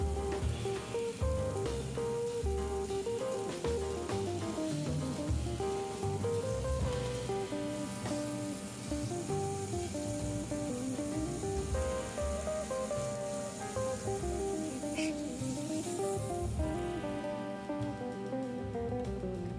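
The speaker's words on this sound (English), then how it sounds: "They will cook just as fast as a smash burger because they're half the size of our 1/4 pound burger." Small burger patties, half the size of quarter-pound burgers, fry in a pan with a continuous dense sizzle and crackle, loud and close throughout, with layered tonal sound underneath.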